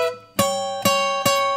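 Three bright, ringing guitar chords of a seventh-chord blues lick built off E are struck one after another, each a clear strum that rings on, close and unaccompanied.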